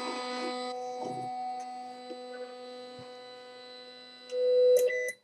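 A Printrbot 3D printer homes its Y axis: a steady electrical hum and whine of the stepper motor runs throughout, with a brief louder buzzing tone near the end as the carriage travels and stops.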